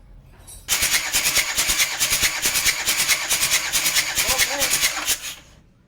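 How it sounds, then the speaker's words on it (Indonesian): A Panther 2.3 diesel engine cranks on the starter during a compression test, a loud, fast rhythmic chug beginning abruptly and running steadily for about five seconds before stopping. "Selanjutnya mari kita starter sampai berapa tekanan kompresinya."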